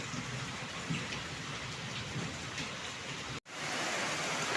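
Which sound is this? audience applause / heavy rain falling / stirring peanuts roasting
heavy rain falling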